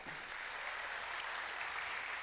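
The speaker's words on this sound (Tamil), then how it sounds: "நீங்கள் ஆண்களும் கூட கைத்தட்டலாம்" Applause from a conference audience, a dense, even wash of many hands clapping, faint and distant, with no voices over it.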